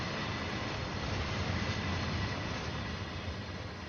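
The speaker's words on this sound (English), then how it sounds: "That's a very long train." A very long freight train rolls past in Train Sim World 2 on the Dresden to Röderau line, a steady, dense rumble with a rushing hiss that holds evenly throughout.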